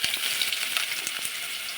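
Onions sizzle steadily in hot coconut oil with popped mustard seeds, a close, continuous crackling fry with a few soft stirring scrapes and no voices.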